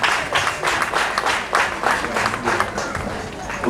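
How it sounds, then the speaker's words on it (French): Applause from an audience at an opening ceremony for an agency in Bohicon, a steady wash of clapping that continues at constant loudness through the whole stretch. "Que je vous prie d'applaudir avec beaucoup d'ovation,"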